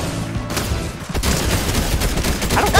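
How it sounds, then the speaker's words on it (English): Thermal scoped assault rifle fire in Fortnite, a dense, loud burst of rapid gunshots with booming reports filling the whole moment, with no talk over it. "it's called a thermal scoped assault rifle"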